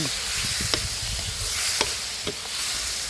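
Meatball and cheese basil stir-fry with seasoning powder and oyster sauce being stirred in a pan: a steady close sizzle broken by several sharp spatula scrapes and taps against the pan, with no talking.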